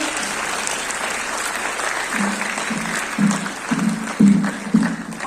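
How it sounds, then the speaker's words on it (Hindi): An audience at the inaugural program of the All India Cooperative Week in Jammu applauds in a hall, with continuous crowd clapping under loud voices that swell and fall over it. "तालियां रुकनी नहीं चाहिए।"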